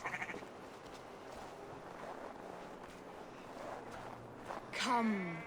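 Sheep bleat in an Assassin's Creed Valhalla scene at the foot of a sleeping giant before a funeral pyre is lit, with a louder, drawn-out bleat near the end over wind and footstep-like ambience, and brief speech at the start.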